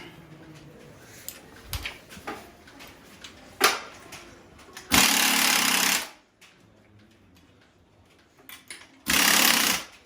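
A power tool tightens a strut nut on a 2015 Jeep Grand Cherokee WK2 during a lift kit install, heard as two loud, steady buzzing bursts of about a second each, with scattered clanks and handling noises between them.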